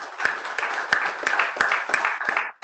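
A brief round of applause at the inaugural session of a college cultural programme, with sparse, distinct handclaps standing out over a thin crowd clatter for a couple of seconds.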